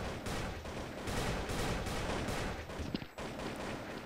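Rapid AK rifle gunfire in the shooter game Blood Strike, dense sustained bursts of shots filling the clip with a brief pause near the end, loud and close with no talking.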